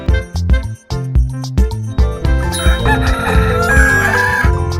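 A rooster crows over bright, bouncy music with steady plucked chords and a clear melody.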